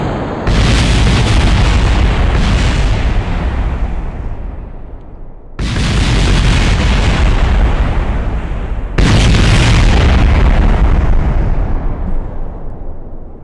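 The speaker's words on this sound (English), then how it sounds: "we are going to fire our missiles" Three heavy booming blasts from missiles firing and exploding in Kerbal Space Program, each a sudden loud burst that rumbles and slowly decays, spaced a few seconds apart with no talking.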